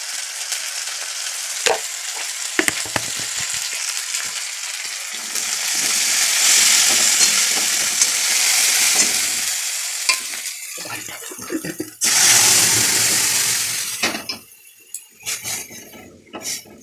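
Tomatoes fry in a pan and are stirred, giving a loud bright sizzle with scraping and clinking from a utensil against the pan, in bursts separated by quieter pauses.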